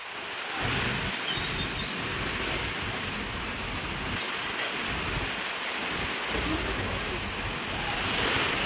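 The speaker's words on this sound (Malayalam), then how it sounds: "എന്താ അറിയില്ല, നല്ല കാറ്റുണ്ട്." Strong wind roars and buffets continuously beside the NH66 highway in Kerala, loud and close, with a dense rushing texture resembling a storm.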